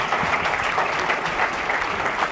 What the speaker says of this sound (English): let's give one round of applause for our distinguished faculty